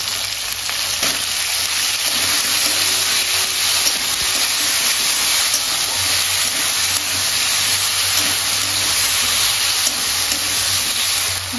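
A paste of ground onion, ginger and chili sizzles steadily in a hot pan for a Bengali cabbage and prawn dish, a dense continuous frying hiss close up with no talking.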